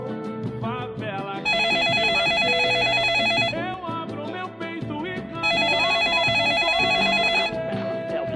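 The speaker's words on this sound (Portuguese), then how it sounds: "telefone tocando uma hora dessa" An old-style telephone bell rings in two long, loud metallic trills separated by a pause, layered over a rap intro's backing music.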